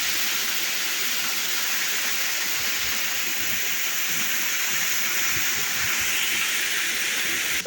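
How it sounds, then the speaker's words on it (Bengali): Shuptodhara waterfall at Sitakunda heard from very close, a steady, loud broadband roar of falling water with constant hiss and spray, unbroken throughout. "আমি ঝর্নার খুব কাছে আসছি একদম"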